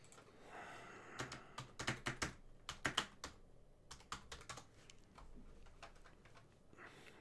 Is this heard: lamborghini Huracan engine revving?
no